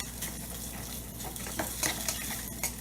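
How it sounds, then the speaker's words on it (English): Spam browning in a small titanium pot on a backpacking stove, a steady soft sizzle with a few light scrapes and clinks of stirring, close and fairly quiet. "I have browned the Spam in my little titanium pot."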